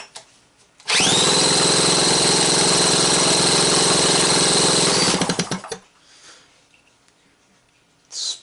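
A charged Makita-style cordless drill with a 2 amp-hour battery, set in second speed, spins an engine over in one loud, steady whine of about four seconds that then winds down, followed by quiet.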